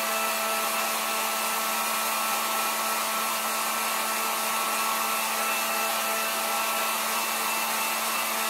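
A heat gun blows hot air onto a freshly painted birch tree candle, a loud, steady whooshing whine that runs unbroken throughout.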